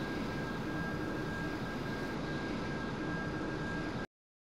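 A jet aircraft engine in the flight game Strike Fighters 2 Vietnam roars as the plane climbs to altitude. It is a steady, dense, even rumble that holds for about four seconds and then cuts off abruptly, with no talking.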